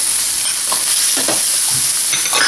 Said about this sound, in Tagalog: So, ilagay natin yung garlic, onions, yung ating ginger.